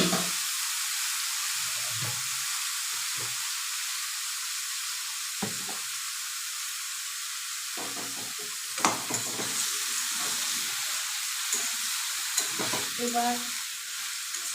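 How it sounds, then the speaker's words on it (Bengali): Chopped bottle gourd sizzles and fries in a pan over tempered spices, with a steady hiss running the whole time and occasional stirring scrapes. A brief word is spoken partway through. "ফোড়ন দিয়ে এবার লাউগুলোকে টুকরো টুকরো করে কাটা লাউগুলোকে দিয়ে দিতে হবে।"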